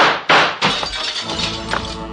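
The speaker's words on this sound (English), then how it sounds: "The shots came in through the door glass." Gunshots shatter door glass in a radio drama, a sharp loud crack and burst of breaking glass followed by another impact and tinkling fragments settling.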